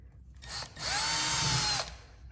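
A power drill bores into a wall stud while a TV wall mount is being installed, one steady whining burst of just under a second and a half, close and loud, with a short spin-up before it.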